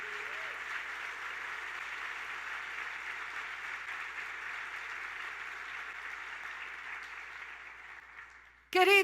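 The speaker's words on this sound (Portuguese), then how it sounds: "Dê um forte aplauso a Ele" Church congregation applauding steadily for several seconds, a dense even wash of clapping that fades at the end as a voice cuts in.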